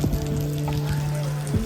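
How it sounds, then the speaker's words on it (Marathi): Heavy rain pours at Tirumala, a brief steady wash of falling water over a constant low hum. "हे बघा पाऊस बघा किती पडतोय."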